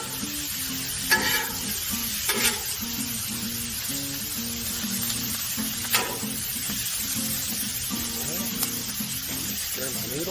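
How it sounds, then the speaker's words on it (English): Noodles for creamy shrimp scampi with garlic are stirred and tossed on a Blackstone griddle, giving repeated scraping strokes over a continuous loud sizzle, close up, with a few brief clanks of the utensil. "Stir my noodles."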